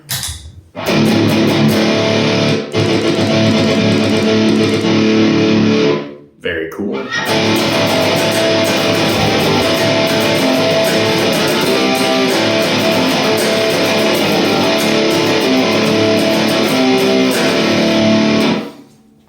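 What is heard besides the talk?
electric guitar with distortion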